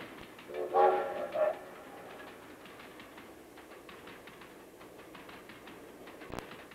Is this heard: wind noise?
no